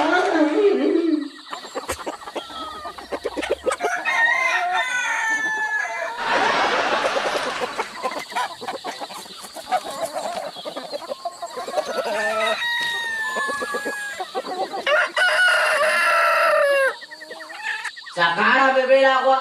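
Chickens cluck and a rooster crows loudly nearby, with hens chattering throughout and people talking over the farmyard noise.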